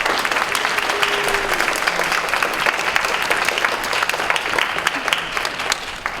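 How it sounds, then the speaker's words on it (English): An audience at a BronyCon 2015 pony cosplay design panel applauds steadily for several seconds, with lively, even clapping and no talking over it. "can we have a big applause for our ladies?"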